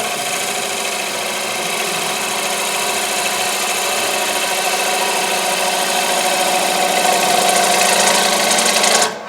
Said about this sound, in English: Lathe is moving, I got wormholes in it.